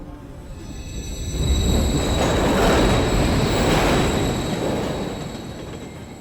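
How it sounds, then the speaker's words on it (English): A train rolls past in the Call of Duty Modern Warfare 3 campaign, its rumble and wheel noise swelling to a loud peak mid-pass and then fading, with no talk. "Another train coming."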